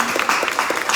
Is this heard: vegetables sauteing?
no